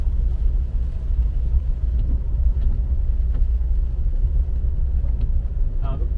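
Steady low road rumble and tire noise inside a Jaguar XE SV Project 8 driving in pouring rain on all-season tires, continuous and constant, with faint occasional clicks over the drone.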